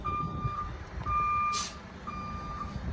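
A truck sounds steady, evenly spaced reversing beeps while backing up, with a low engine rumble and a short hiss of air brakes in the middle.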